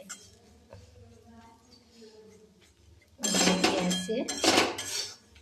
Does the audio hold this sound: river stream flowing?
no